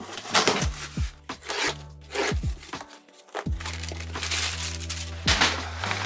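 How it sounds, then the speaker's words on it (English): Cardboard boxes from a KPower 86 swap kit are torn and opened with a series of rubbing, crinkling scrapes and rough tearing bursts, close and moderately loud, with short pauses between. "Open up some of the boxes that went inside the boxes."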